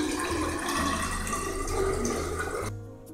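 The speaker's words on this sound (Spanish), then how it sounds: "Tenemos que echar 300 ml de agua de disolución en los detectores." Water poured steadily into laboratory digesters, 300 ml of dilution water making a continuous splashing, gurgling rush that stops abruptly near the end, close by with no talking.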